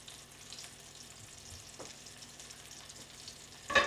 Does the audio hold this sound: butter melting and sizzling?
yes